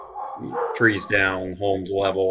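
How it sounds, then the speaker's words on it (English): Dogs bark at a passer-by in the background, several yips and barks rising under close, continuous talk about storm damage and homes being levelled. "You can hear my dogs in the background."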